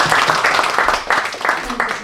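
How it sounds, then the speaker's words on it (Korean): A congregation at a 2021 Reformed theological seminary graduation ceremony breaks into applause, a loud, dense burst of many hands clapping that fills the room for a couple of seconds. "우리 하나님께 영광의 박수 한번 올려드리겠습니다"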